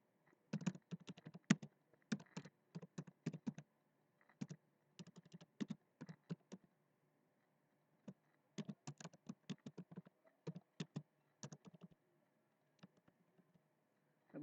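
Quiet, close computer keyboard typing in irregular bursts of quick key taps separated by short pauses while a Facebook post is written.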